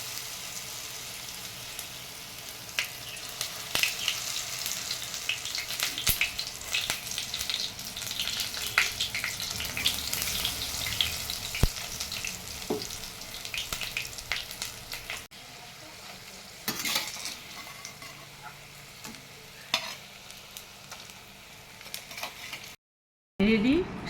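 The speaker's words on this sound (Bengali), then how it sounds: "একটু ডিপ ফ্রাই করতে হবে।" Water lily flower chops deep-fry in hot oil, a steady crackling sizzle with scattered pops that eases in the latter part, then cuts briefly before resuming.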